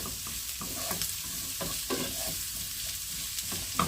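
Julienned chayote, cut thick almost like batons, sizzles and frys in a pan while a spoon stirs it, with scraping strokes and soft clatter over a steady close sizzle.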